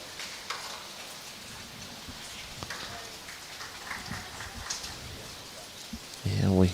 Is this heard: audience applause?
no